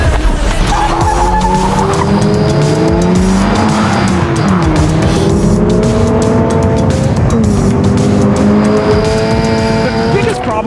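A 2022 Toyota GR86 driven hard, its engine loud and close, rising and falling through repeated revs and gear changes, with tire squeal mixed in and a voice talking over it.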